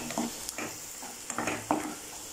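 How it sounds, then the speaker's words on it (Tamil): Green chillies sautéing in a pan of oil as the base for fried rice, a steady crackling sizzle broken by several quick stirring scrapes. "இப்போ இதையும் சேர்த்து நல்லா வதக்கிக்கிறலாம்"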